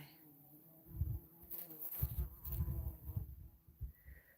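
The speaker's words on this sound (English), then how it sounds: "That's a cool bee." A bee buzzes around oregano blooms in a high-desert garden at 6,100 feet in northern Arizona, its drone coming and going in close, uneven swells over faint outdoor background.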